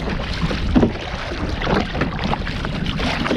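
Kayak paddling on the sea while lure fishing for bass and wrasse, with soft water splashes and strokes against steady wind and wave noise, close and moderately loud.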